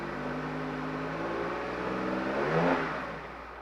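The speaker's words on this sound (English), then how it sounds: "I wanted to rev it up and turn it off because I want to clean my spark plugs." Porsche GT1 race car engine revving nearby, a loud, steady running drone that climbs into a sharper rev about two-thirds through and then eases back.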